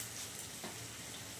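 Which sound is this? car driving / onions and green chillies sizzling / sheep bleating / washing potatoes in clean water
onions and green chillies sizzling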